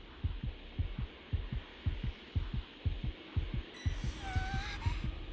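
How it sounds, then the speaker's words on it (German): Heartbeat in the video game Dragon Ball The Breakers, a steady double-thump pulse repeating about twelve times and growing stronger, with a low hum beneath and a brief tonal game sound near the end. "Herzschlag wird immer lauter."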